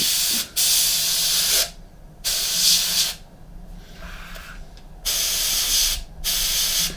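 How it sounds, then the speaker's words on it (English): Bursts of airbrush or spray-can hiss coat the decals on a Millennium Falcon scale model, four or five steady sprays of about a second each, separated by short quiet gaps, close and alone. "by spraying over the decals"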